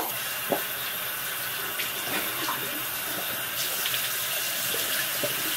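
Hot tap water runs steadily into a sink to wet a washcloth, a close, continuous hiss and splash with occasional small clinks and drips and no talking.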